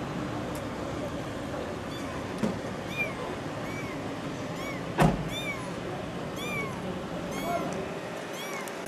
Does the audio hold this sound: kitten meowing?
yes